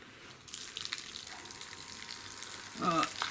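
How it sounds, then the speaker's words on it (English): A kitchen tap runs steadily while a heat-treated metal piece is scrubbed with a Scotch-Brite pad, producing a continuous bright hiss of water with a brief louder splash near the end and no speech. "A little bit of water, a bit of a scrub."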